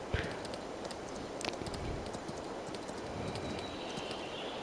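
A ridden horse's hooves clip-clop faintly against a steady outdoor wash of noise, the footfalls soft and distant rather than sharp.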